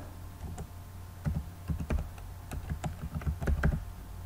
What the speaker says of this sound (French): Je tape par exemple voilà, ordinateur.